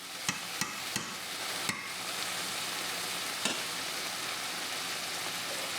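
Corn frying and caramelizing in a pan, a continuous soft sizzle with a few sharp utensil taps near the start, close and fairly quiet, without speech.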